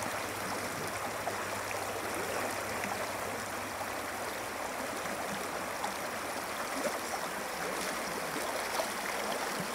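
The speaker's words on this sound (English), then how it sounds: "That's where the water is tumbling over the rocks" Indian Creek water tumbling over rocks near Oxford, a steady close rushing and rippling burble that continues alone without talk.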